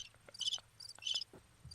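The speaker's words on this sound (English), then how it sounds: "Stop playing the fucking crickets" A cricket chirping sound effect plays as two faint, quick bursts of high trilling chirps, with no talk over it.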